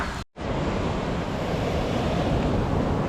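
Calm sea waves wash steadily onto Unawatuna beach in Sri Lanka, a continuous loud surf wash with wind buffeting the microphone, briefly cutting out near the start before the steady roar resumes.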